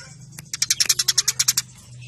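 A house sparrow gives its fighting call: a quick burst of about a dozen sharp, evenly spaced chirps, close and clear over a low background hum.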